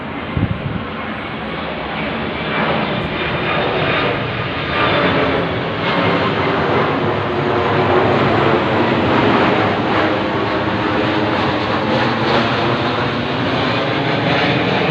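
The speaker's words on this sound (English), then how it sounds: "see that plane going right over my head" A fixed-wing airplane passes overhead, its broad, steady engine roar filling the whole stretch at close, loud range, swelling slightly midway and holding without a break.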